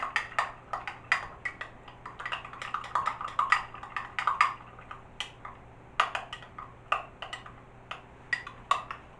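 Homemade tartar sauce is stirred together with lemon juice in a bowl, giving quick, irregular clicks and taps of a utensil against the bowl, fairly quiet and close, with no talk.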